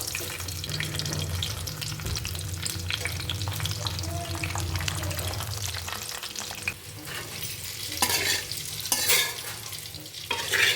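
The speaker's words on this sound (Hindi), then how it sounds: "मैं समोसा उसको फ्राई करने लगी हूँ।" Samosas deep-frying in hot oil for an iftar meal, a steady dense sizzle running continuously at close range, thinning briefly midway before bursts of louder crackle and splashing near the end.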